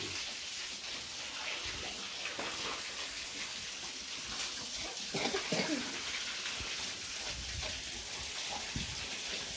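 Running water washing out a pigsty on a farm, a steady splashing hiss throughout with brief louder gushes, heard in the open with faint birds in the background.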